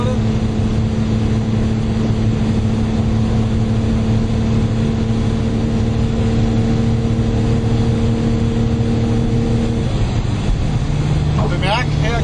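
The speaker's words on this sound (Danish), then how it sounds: "her kører vi i 6. gear. 220 ved 2600 omdrejninger." Lotus Omega 3.6 supercharged engine cruising in sixth gear at about 2600 rpm with low boost and the oil warning lamp lit, a steady low droning hum with road and wind noise, continuous and even.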